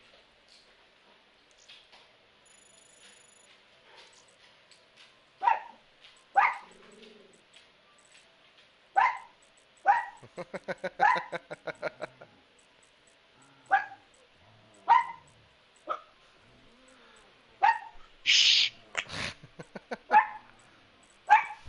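Pet dogs bark repeatedly in sharp single and clustered yaps, fairly close and moderately loud over a quiet room, with a man briefly shushing them.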